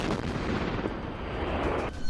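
ATAGS towed artillery gun firing a shell, a heavy dense blast with a long rumbling roar that fills the moment before tailing off near the end.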